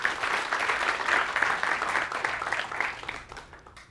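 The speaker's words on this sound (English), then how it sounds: "My third wish is that you give Mike a warm round of applause" An interview audience breaks into warm applause, a dense patter of clapping that holds steady and fades toward the end.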